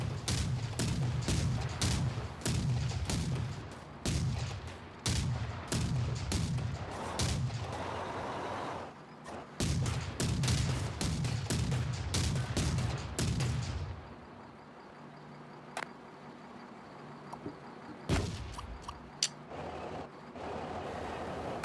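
A C-302 30mm chain gun in a TerraTech game mod fires high-explosive rounds in rapid, loud repeated bursts with booming impacts, then falls to quieter scattered single shots and silence.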